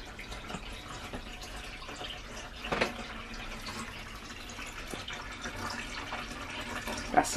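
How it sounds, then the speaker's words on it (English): Water runs steadily from a tap in a narrowboat bathroom being refitted, a constant close hiss and trickle with a couple of louder splashes and drips. "That's a lot of water."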